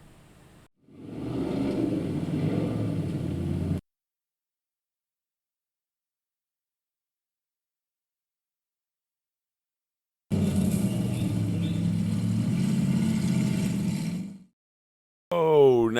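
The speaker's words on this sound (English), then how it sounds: "Dutch Clutch's Dragster" A narrow, long-wheelbase dragster at a Goat Hill race roars up the hill in two loud bursts of revving engine, separated by a long stretch of near silence, with a short burst returning at the end.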